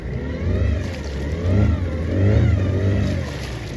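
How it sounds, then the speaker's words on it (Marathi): A motorboat engine drones and surges steadily as the boat circles to make waves near rocks, rising and falling in pitch as it revs, fairly loud and close with no voices. "या लाटा त्याने तयार केल्या आहेत बोट फिरवून."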